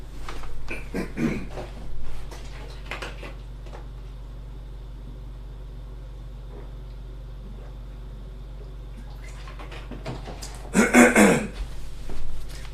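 Someone nearby clears their throat and coughs in short bursts, first early on, then a louder harsh fit near the end, over a low hum.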